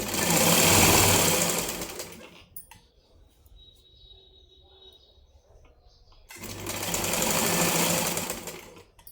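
Sewing machine stitching the folded side cloth of a blouse lining: two loud, steady runs of motor whir and needle rattle, separated by a few quiet seconds of faint handling.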